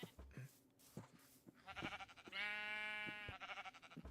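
A Minecraft sheep in a pen gives a clear, sustained bleat amid scattered game clicks and footsteps, with a few shorter blips before and after.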